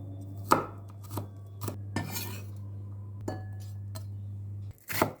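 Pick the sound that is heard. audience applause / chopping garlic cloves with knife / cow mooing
chopping garlic cloves with knife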